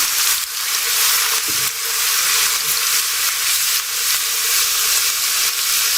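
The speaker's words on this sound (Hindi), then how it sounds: "हम डाल देते हैं लहसुन पेस्ट, अदरक पेस्ट, हल्का सा फ्राई कर लें।" Garlic and ginger paste fries in a pan for achari chicken karahi, a loud, steady, close sizzle with hissing spatter and a few stirring scrapes.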